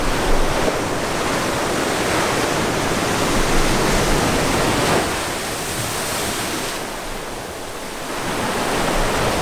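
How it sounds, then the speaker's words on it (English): Ocean waves rush up a beach on the west coast of Puerto Rico, giving a loud, continuous surf roar that swells and eases with each surge, with wind buffeting the microphone and no voices. "That water came rushing up at you."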